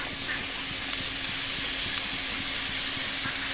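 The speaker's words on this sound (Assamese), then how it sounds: "ইয়াতে এতিয়া কাটি থোৱা জিকাখিনি দি দিলোঁ।" Chopped ridge gourd hits hot oil in a pan and sizzles in a dense, steady hiss that carries unbroken and close throughout.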